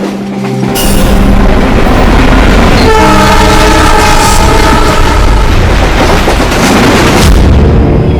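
A passenger train rolls steadily along railway tracks, a loud continuous rumble with rhythmic clatter throughout, and a brief horn-like tonal layer toward the middle.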